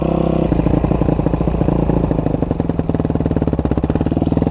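A dirt bike engine runs loud and close, its rapid chugging pulse steady at first, then tightening into a quicker, throatier rhythm as the revs climb, with no voices over it.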